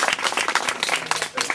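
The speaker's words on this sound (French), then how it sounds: "Merci, on les applaudit." Guests at a donation ceremony in Togo are welcomed with a short, dense burst of audience clapping and cheering that continues throughout.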